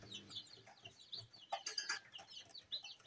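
Chicks chirp and peep in short, high bursts, busy and close, with scattered clucking-like notes in a quiet indoor brooder.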